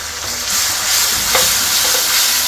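Onions fry in a pan for a home-cooked festive thali, giving a steady, close sizzle with faint stirring scrapes and no talking.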